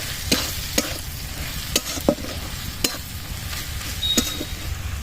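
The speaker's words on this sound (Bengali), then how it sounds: "লঙ্কার গুঁড়ো, জিরে গুঁড়ো, দিয়ে নেড়ে নিচ্ছি।" Chili and cumin powder being stirred in a hot frying pan for a fish curry: a steady sizzle with a series of sharp, close spatula scrapes and knocks against the pan at uneven intervals.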